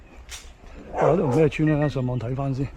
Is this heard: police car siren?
no